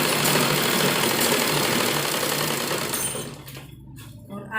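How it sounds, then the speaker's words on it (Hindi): A sewing machine stitches a dupatta into a baby dress, running in a loud, steady rapid whir for about three seconds before slowing and stopping, leaving quieter handling noises. "इसी के ऊपर हम सिलाई करनी शुरू करेंगे"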